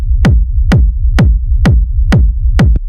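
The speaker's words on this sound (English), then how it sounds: "So this is a rumble kick." A rumble kick drum from a modern techno track pounds steady quarter notes, each punchy thump trailed by a deep rolling low-end rumble, loud and alone.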